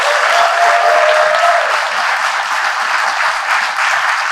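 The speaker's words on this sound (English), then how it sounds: "So I want us to give her another round of applause." Audience applause at a Ndi Igbo New Zealand award ceremony honouring a historian: steady, dense clapping from a sizable crowd lasting a few seconds, with a brief faint tone early on.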